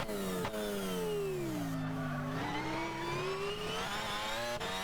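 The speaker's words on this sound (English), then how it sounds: "This thing revs and sounds like a Formula 1 car." SRT Tomahawk X race car engine in Gran Turismo 6 revving hard, a high, shrill multi-tone wail that dips, then climbs again through the gears, steady and sustained with no speech.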